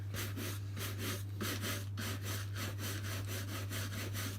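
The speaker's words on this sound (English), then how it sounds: "now I'm going to take a stiff pure bristle brush, a proper shoe polishing brush." A stiff pure-bristle shoe polishing brush buffs blacked leather boots in quick, even back-and-forth strokes, close and steady throughout, over a constant low electrical hum.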